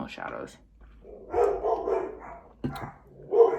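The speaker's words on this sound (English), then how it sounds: "Dogs have been going crazy today, you guys." Dogs bark in short bursts nearby during a chatty makeup routine, the barks loud and irregular, with a voice talking at the start and again near the end.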